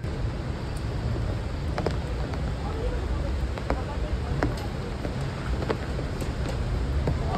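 Steady rain pours on a night street in Rasht, with faint rumbles of thunder and scattered drips and taps over a dense, continuous wash of noise.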